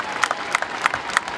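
Applause from an audience at a bishop's consecration in Kumi Diocese, Uganda, greeting members of parliament: a brief burst of fairly faint clapping with periodic sharper claps, no voices over it.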